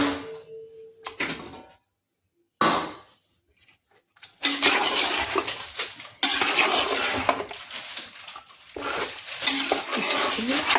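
Two kilos of chicken pieces being mixed in a cooking pot make bursts of clattering metal scrapes and knocks, close and loud, separated by short silent gaps.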